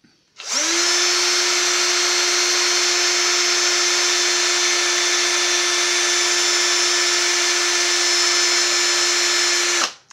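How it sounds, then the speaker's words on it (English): An electric drill whines steadily at high speed for about ten seconds while drilling shrink plastic, loud and close, with a constant pitch and no talking. "grab my handy dandy electric drill and take and put a hole"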